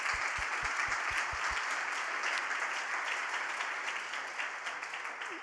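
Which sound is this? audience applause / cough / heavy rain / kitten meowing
audience applause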